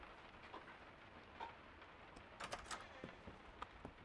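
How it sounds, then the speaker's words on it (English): Rain falls in the Miscreated survival game, a faint, steady hiss of drops with scattered louder patters and a few sharp hits, heard alone without any talking. "Look at that rain out there."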